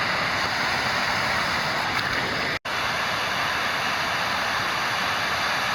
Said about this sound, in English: So this is the second of 3 waterfalls in a row. Each of them are, drops of somewhere between 15 and 30 feet.